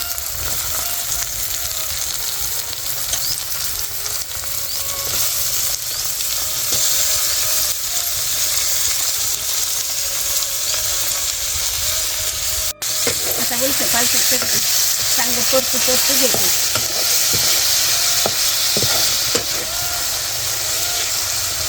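Onion and green chilli sautéing in a pan for a spicy tomato laddu, a steady loud sizzle and hiss running throughout, with stirring scrapes and clinks growing busier toward the end.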